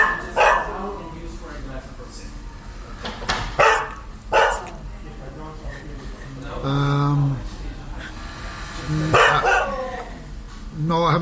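A husky barks and howls in drawn-out, wavering cries and short yelps, mixed with people talking over and between the calls.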